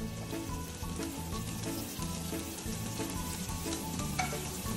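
Onions and garlic frying in a pan for adobo, a steady close sizzle with faint stirring scrapes throughout, alone without talk.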